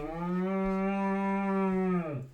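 A human voice imitating a cow's moo: one long, sustained, evenly pitched moo lasting about two seconds, close and clear, ending in a short downward fall.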